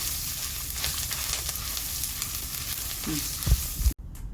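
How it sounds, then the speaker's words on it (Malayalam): A handful of curry leaves sizzle and crackle steadily in hot oil for Udupi sambar, ending with a couple of utensil knocks before the sound cuts off. "ഒരു പിടി കറിവേപ്പിലയും കൂടെ ചേർത്ത് നന്നായി ഒന്ന് വഴറ്റിയെടുക്കണം"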